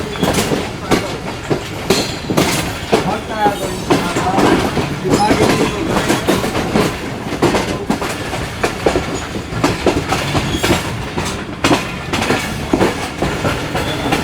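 The Karakoram Express, in a new rake, pulls out of Karachi Cantt, heard from on board as a loud, steady rumble with rhythmic clickety-clack of wheels over rail joints and occasional squeals, continuous and close throughout.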